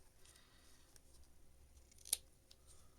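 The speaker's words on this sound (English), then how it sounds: "I'm just going to cut the center thing out because it's really kind of hard and plasticky" Scissors snip once through the hard plastic center of an artificial flower, a single sharp cut against a quiet background.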